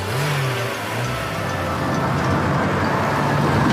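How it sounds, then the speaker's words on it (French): Animated broken-down cars rolling into a repair workshop, a continuous mid-pitched engine rumble with a brief rev near the start, steady and close throughout, with no talking. "Toutes les voitures en panne rentrent dans l'atelier."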